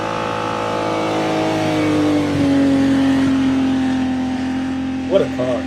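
A car engine revs and holds a rising, sustained drone close by, loud and steady, with a voice heard near the end.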